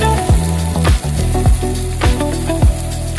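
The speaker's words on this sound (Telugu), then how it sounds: "నెయ్యి కాగిన తర్వాత స్పైసెస్ యాడ్ చేసుకోండి." Whole spices, two cardamom pods, a piece of cinnamon and cloves, sizzle and fry in hot ghee. The crackle is steady and close, with a few sharp pops and stirring knocks.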